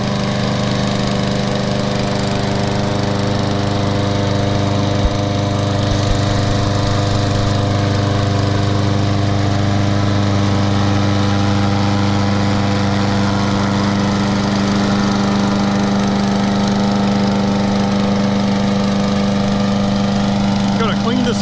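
A Poulan 21-inch lawn mower with a Kohler XT Series engine runs steadily and loudly close by, its even droning hum holding constant throughout without a break.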